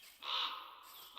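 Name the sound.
crow cawing in Minecraft video game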